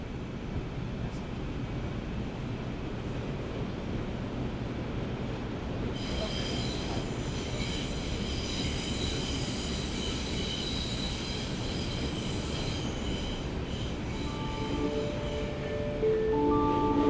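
A train rolls steadily along the rails with a constant low rumble, then high metallic wheel squeals rise and persist over the clatter, close and loud.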